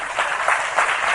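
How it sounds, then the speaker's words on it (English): Audience at a memorial for Lester Williams III breaks into brief applause, a short burst of many hands clapping in a hall, moderately loud and close. "give him a round of applause"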